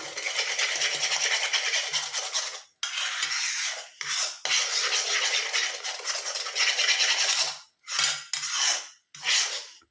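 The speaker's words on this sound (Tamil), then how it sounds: "இப்போ நல்லா நம்ம கலக்கணும் இந்த மாதிரி" Homemade hair dye is mixed in a bowl: brisk, rhythmic scraping and rubbing strokes come in long bursts separated by short pauses, close and fairly loud, with no talking.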